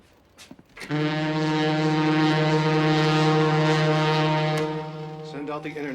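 Ship engines in a film scene come on after a few faint knocks, then hold a loud, steady low foghorn-like drone for several seconds before tapering off.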